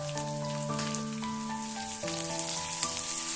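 Crushed garlic, curry leaves and hing crackle and sizzle in hot oil for a sambar tempering, a busy spattering hiss with sharper pops, heard under steady background music.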